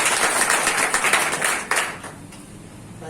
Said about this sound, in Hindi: ताली बजाएंगे एक बार.